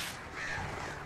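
Crows caw in the video game Alan Wake, a short harsh call ringing out fairly close over a low ambient background.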